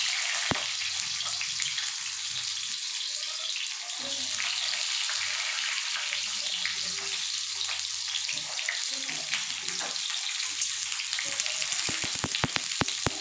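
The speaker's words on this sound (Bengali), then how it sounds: "দেখুন কড়াইতে তেল গরম হয়ে গেছে আমি পটলগুলোকে ভেজে নেব" Eight pointed gourds (potol) frying in hot oil in a wok, a steady, bright sizzle up close that holds for several seconds, ending in a few sharp clicks.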